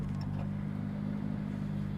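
A K-swapped Honda Civic with a budget turbo K20 build sits at a complete stop, its engine idling in a steady low rumble up close with a faint clatter, and no talk over it.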